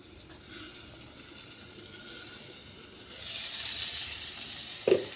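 Pointed gourd (potol) frying in a pan makes a faint, steady sizzle that swells louder partway through, with a brief clink near the end.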